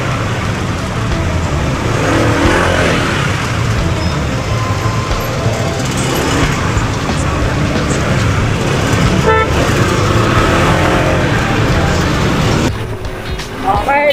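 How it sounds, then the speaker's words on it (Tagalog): Dense, loud road traffic on a busy boulevard, a steady roar of car engines with horn toots mixed in, continuous throughout and dropping slightly near the end; voices murmur in the background. "Traffic."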